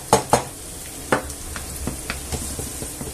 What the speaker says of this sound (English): fry it for about 5 minutes or so